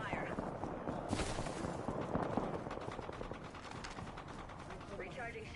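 Rapid video game gunfire rattles on continuously at moderate distance, with a voice talking over the shots.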